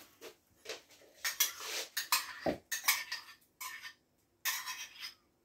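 A spoon scrapes softened butter from a container into a mixing bowl, giving a series of close, short scraping and tapping strokes with brief pauses between them.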